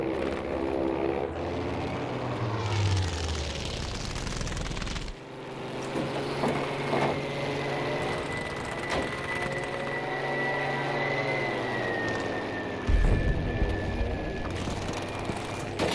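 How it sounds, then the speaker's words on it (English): A propeller warplane flies in Battlefield V, a World War II shooter video game, its engine droning continuously and loudly throughout, with the pitch and roar shifting as the aircraft maneuvers amid game ambience. "I mean, the plane wants to go this way."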